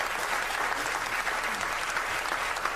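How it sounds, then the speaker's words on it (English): A studio audience at a live Doctor Who 50th anniversary afterparty show applauds steadily for actor Matt Smith, a dense, even wash of clapping from many hands with no break. "Give a round of applause for Matt Smith"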